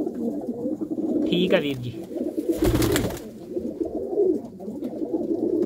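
Pigeons coo in a loft alongside someone talking throughout, the soft low calls running under and between his speech.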